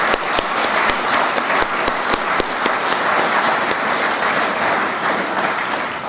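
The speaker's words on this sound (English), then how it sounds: "if everybody give him one more hand of applause" Sustained applause from an audience at a veterans memorial building's grand re-opening ceremony, dense steady clapping filling the room for several seconds without a break.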